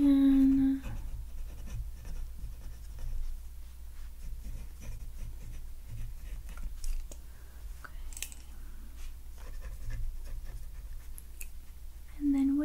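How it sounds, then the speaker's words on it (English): A pen scratches across paper at a doctor's reception desk, soft and close with steady small strokes over a low hum, and a brief tonal sound at the start and end. "let me just write it"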